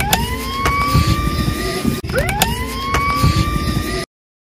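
An ambulance siren wails, sweeping up and down over steady traffic rumble, loud and close, cutting off abruptly.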